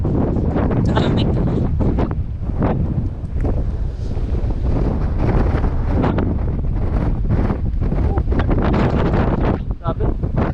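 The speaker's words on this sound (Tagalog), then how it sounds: "Grabe lang ang hangin guys." Strong, cold wind blows across a rocky roadside area with green copper-stained stones, a loud continuous roar buffeting the microphone for the whole clip, with faint voices underneath.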